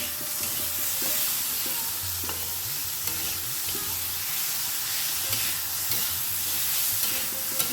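Spices fry in a pan for sago khichuri, a steady sizzle with frequent scraping and stirring knocks throughout, close and moderately loud, with no talking.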